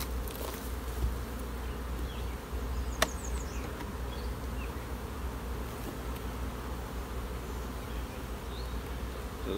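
Honeybees hum around an opened hive during work on the brood chambers. The buzzing is a steady, dense drone, with occasional bees passing close by and no voices.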